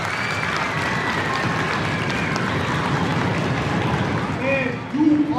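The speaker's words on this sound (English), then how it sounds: "Big round of applause for him." Sustained audience applause at an elementary school speaking event, dense and even clapping under faint crowd murmur, with a brief louder burst of voices near the end.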